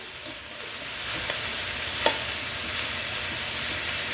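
Cabbage and chhana (cottage cheese) being stirred in a frying pan, with a steady broadband sizzle throughout and a few soft spatula scrapes and taps standing out, no talking.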